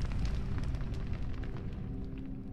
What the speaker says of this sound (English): It sounds like fire everywhere.